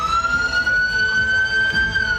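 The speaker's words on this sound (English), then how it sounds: "Turn off your sirens." A loud, close siren wails steadily with a sustained rising tone, over engine rumble and traffic noise.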